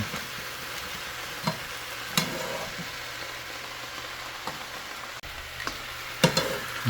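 Cooked snow crab and Dungeness crab being mixed in a pot with two ladles and a spoon, giving a steady soft sizzle with scattered scraping and clinking stirs, no talking.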